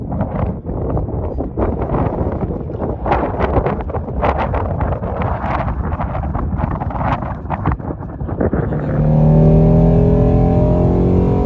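A 2020 Shelby GT350 cruises on a desert road through the Valley of Fire, its engine droning under heavy wind buffeting, with a louder, steadier roar building toward the end.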